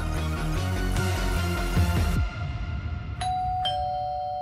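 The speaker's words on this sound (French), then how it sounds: "Le carillon de la sonnette résonne dans la maison." A doorbell chime rings through a house in two clear, sustained ding-dong tones, with a loud musical passage before them that cuts off.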